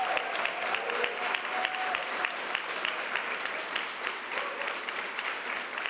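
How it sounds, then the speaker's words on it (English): An audience applauds at a New York governor's bill-signing event, with dense, steady clapping that holds evenly for about six seconds without any talk. "Let's give him a round of applause."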